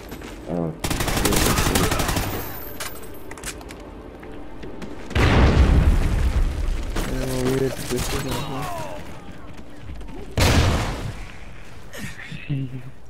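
Gunfire in the video game Call of Duty Ghosts, a team deathmatch on PS4: loud bursts of automatic fire and booming shots come in several clusters, mixed under a player's excited talk.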